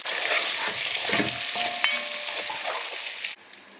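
Ginger sautés in a frying pan for Filipino tinola, a loud, dense sizzle with stirring scrapes running steadily before dropping away near the end.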